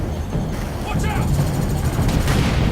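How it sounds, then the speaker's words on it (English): An autocannon fires in Warhammer 40,000: Space Marine amid a dense, loud wash of battle noise, with a steady rumbling barrage and rapid bursts of gunfire throughout. "There's the autocannon I know and love."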